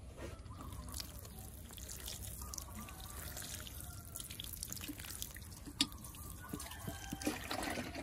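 Water trickles and drips into potting soil as a Vietnamese coriander plant is watered, a faint, close, continuous patter with a few louder drops and no talking.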